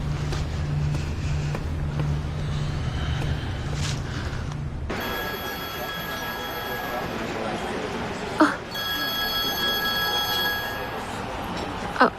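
A telephone rings with an incoming call, a steady repeating electronic ringtone that sounds over background noise and carries on after a sudden shift in the room sound.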